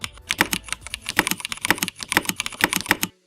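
Simulated Cherry MX Brown mechanical switches with PBT keycaps clatter in a steady run of close, crisp keystrokes, bursts of typing filling about three seconds with no voices.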